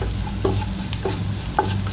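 Turmeric and spice powders sautéing over a low flame in a pan, with a few soft scraping stirs over a faint, steady sizzle, close and fairly quiet, no voices.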